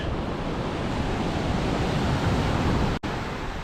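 Continuous roar of sea waves and surf in Kona, Hawaii, with heavy wind buffeting the microphone, loud and unbroken apart from a brief dropout.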